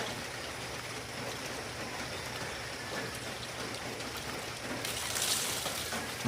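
Water pours steadily over a person bathing, a continuous splashing rush with a brief louder surge near the end and no talking.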